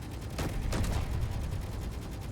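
Turret gunfire in the space game Space Engineers, a couple of heavy thumps followed by a continuous low, dense rumble of fire that holds steady and fairly distant.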